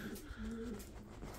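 Spanish post pigeons coo softly inside a sand-floored coop, giving one low, quiet throaty coo over a constant background hiss.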